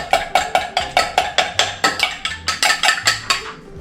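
A spoon clinks steadily against a bowl while stirring a caramel roll dough mixture, a quick even run of bright taps at close range with no talk.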